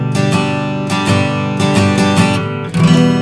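Guitar strummed down and up through the transition between verse and bridge of a song, with close, full chords and bright repeated strokes, played alone without voices.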